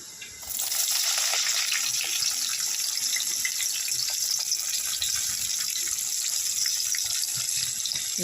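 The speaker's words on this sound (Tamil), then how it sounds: "குழம்பு வந்து சைடில் கொதிச்சிட்ருக்கு." Kuzhambu gravy with drumstick and brinjal boiling in a pot, a steady close hissing bubble that starts abruptly and continues evenly throughout, with no talk.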